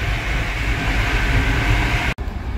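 Interior of a moving Krakow–Przemysl–Kyiv passenger train, a steady loud rumbling hum of wheels and carriage noise, briefly cut by a sharp dropout near the end before the rumble resumes, with no talk.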